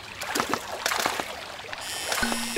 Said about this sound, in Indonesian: Bunyi air!